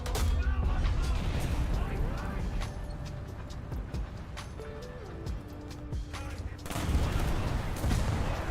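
Repeated gunfire and booming shots in a video game with British hunting action, dense volleys running through most of the stretch under game ambience, with a player talking over them.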